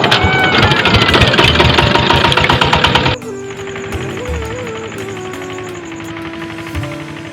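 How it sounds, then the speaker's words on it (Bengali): A boat engine on the Padma river ferry crossing is started and runs, preceded by a loud dense mechanical clatter, then settling into a steady, lower idling drone with varying pitch. "নৌকা স্টার্ট করে"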